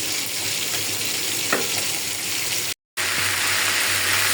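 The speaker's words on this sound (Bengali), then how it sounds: "মাছ ভাজা হয়ে গেছে, আমি এই কড়াইতেই ভেন্ডি আবার ভাজি বসায় দিলাম।" Fish sizzles steadily in oil in a kadai as a loud, continuous frying hiss, close up, broken by a brief dropout near the end.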